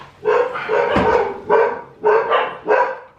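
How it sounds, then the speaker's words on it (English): A dog barks in a run of about five loud, close barks, spaced roughly half a second apart, with no talk over them. "see what that fucking dog's barking at"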